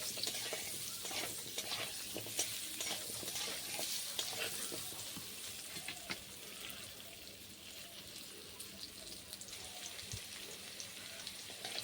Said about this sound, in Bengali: যে গোল আলুগুলো নিয়েছিলাম, ওই আলুটা তেলের ওপরে দিয়ে দিচ্ছি